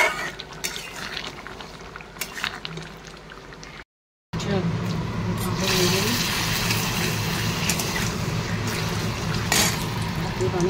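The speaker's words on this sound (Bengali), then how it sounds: "জল দিয়ে দেবো, যেহেতু পোস্ত ঝোল হবে একটু বেশি করে জল হবে" Water is poured into a potato and poppy-seed curry (aloo posto) in a pan. A steady close splashing stream runs on after a brief break, while someone talks over it.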